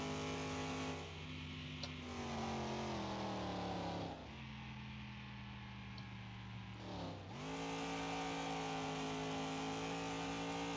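A car engine revving hard while driving in Car Mechanic Simulator 2021, running at high steady revs with the pitch dropping and climbing again at two gear changes, constant and fairly near, with no talking.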